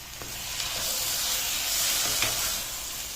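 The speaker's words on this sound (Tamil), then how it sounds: "நான் வந்து கொஞ்சம் தேங்காய் பால் போடுவேன் இந்த பக்கெட் பால் தான் போடுறேன்" Coconut milk poured into a simmering soya meat curry and stirred, a steady close sizzling hiss with faint scraping strokes throughout, no talk.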